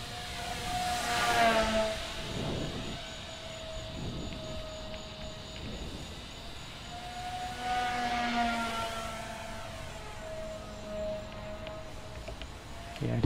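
An E-flite Twin Otter RC seaplane flies past low over a confined area, its twin electric motors giving a steady whine that swells as it approaches and fades away, passing by twice.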